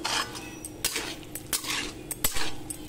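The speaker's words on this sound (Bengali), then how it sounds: "এবার সাথে থাকা আলুগুলোকেও আমরা যোগ করে দিচ্ছি" Potatoes going into a pan for a Bengali vegetarian fig curry, heard as close metal spoon scrapes and clinks against cookware in irregular bursts, with a faint sizzle underneath.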